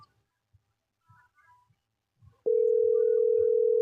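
A steady telephone tone sounds during a phone call, starting abruptly partway through and holding continuously to the end, loud and close after a quiet stretch of faint low rustles.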